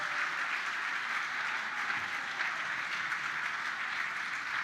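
Steady, sustained applause from a comedy special audience in a large room, dense and even clapping holding at a constant level for the whole stretch with no voices above it.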